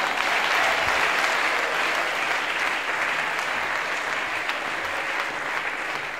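A church congregation applauds to celebrate God, a dense and steady burst of clapping from many hands that holds throughout and eases off slightly toward the end.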